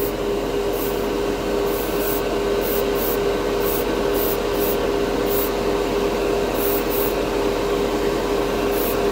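An airbrush sprays light coats of white pigment and mica powder paint, producing a constant, loud, close hiss with a steady hum beneath and short bursts of higher hiss as the spray is triggered.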